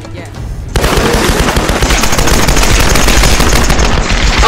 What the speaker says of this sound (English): Oh jeez, that was a minigun.